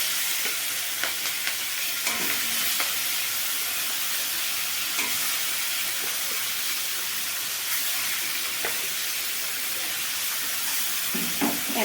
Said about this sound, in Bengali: এবারে আমি মাছগুলো সব এক এক করে কড়াইতে দিয়ে দিচ্ছি।